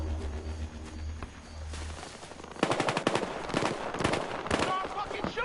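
Gunfire in the video game Battlefield Hardline comes as bursts of rapid automatic shots in the second half, fairly faint and mixed with background game sound.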